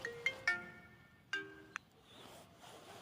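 A phone ringtone chimes a short melodic phrase, a few bright tones pausing and resuming, fairly close and clear.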